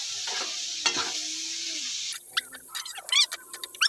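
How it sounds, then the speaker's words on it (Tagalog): Chicken meat for dinuguan frying in a pan: a steady sizzle with scraping utensil strokes for about two seconds, then quieter, patchy crackling and stirring clicks. "Halu-haluin lang natin guys. Hanggang sa medyo maprito pa ng konti yung ating karne."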